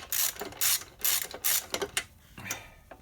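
A ratchet wrench tightens clutch bolts during an SAE 14 clutch install on a dually truck build, with several bursts of quick, close mechanical clicking separated by short pauses.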